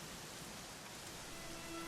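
Steady rain falls in Dragon Quest XI, a constant soft hiss with no breaks and no talk, faint and even throughout.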